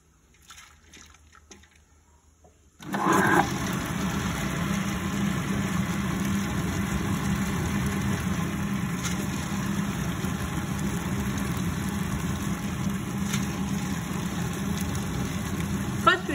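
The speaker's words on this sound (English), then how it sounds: "We have to grind the urad dal for 10 to 20 minutes." Wet grinder churning urad dal into idli batter, starting up after a quiet moment and then running as a loud, steady motorized rumble with a sloshing, watery grind throughout.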